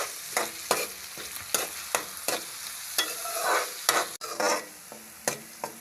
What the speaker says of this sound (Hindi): अब इसमें प्याज डालेंगे, 1 अदद चॉप किया हुआ। इसको गोल्डन ब्राउन होने तक फ्राई कर लेंगे।